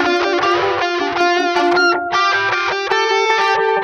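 Distorted, heavily processed Metal Zone–style guitar tone run through a Switchblade preset, with repeating echo delays trailing sustained chords; loud and continuous, with a brief dip near the middle before the playing resumes.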